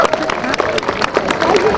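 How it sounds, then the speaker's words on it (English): A crowd at a Cardiff Bay 999 day water rescue display applauds the rescue crews, a short burst of loud, close clapping mixed with crowd noise. "if we all give them a big round of applause"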